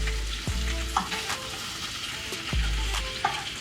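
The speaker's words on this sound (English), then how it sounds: "I'll just chuck the butter in there now, and you just stir it all around till it emulsifies up" Butter sizzles and fries in a hot pan while being stirred around, a steady close crackle broken by scraping strokes of the utensil.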